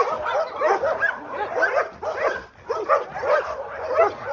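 Several shelter dogs at the Humane Society in Nassau, Bahamas, bark and yip in an irregular, overlapping chorus, fairly close, with a few whimpers mixed in and no clear talking.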